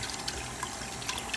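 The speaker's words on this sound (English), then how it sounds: "just one more rinse" Water running and splashing over homemade butter during a final rinse, a steady close trickle and slosh with small splashy peaks, no talking.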